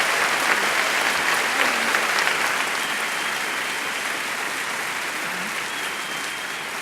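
Audience applause for Sandra Day O'Connor, the first woman appointed to the US Supreme Court: loud, dense clapping from a large room, steady throughout and easing slightly toward the end, with no talk over it.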